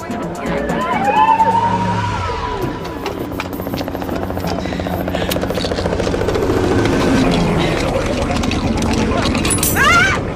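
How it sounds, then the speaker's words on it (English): A police helicopter thunders overhead in an action-movie street scene at a city intersection, with a steady rotor roar building and fading over ten seconds. Voices talk over it and other vehicle noise mixes in. "bring the chopper in from the back"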